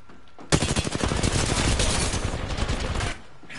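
Rapid automatic gunfire in the battle royale game Apex Legends erupts suddenly and rattles on in a dense, steady burst for about two and a half seconds before cutting off, loud and close with no talking over it.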